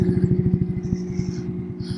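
A Royal Enfield Meteor 350 Ultra Low motorcycle riding close by gives a steady, rhythmic low thumping engine beat that softens slightly toward the end.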